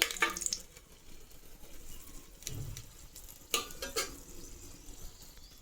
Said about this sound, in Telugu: ఐదు వట్టిమిరకాయలు అయితే వేశాను నెక్స్ట్ వచ్చి ఒక నాలుగు మిరియాలు అయితే వేసేస్తాం కొద్దిగా మంచిగా ఫ్రై చేసుకుందాం